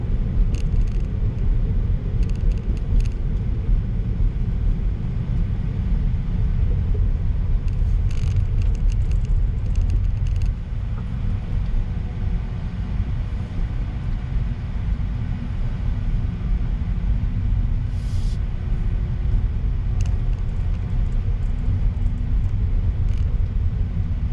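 Tesla electric car cruising at about 35 mph, a steady low road rumble and tyre drone filling the cabin without pause, with faint ticks and rattles above it and no talking.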